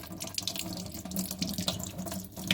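Water runs steadily from a tap as a kidney stone is rinsed under it, a close, continuous splashing hiss for the whole moment.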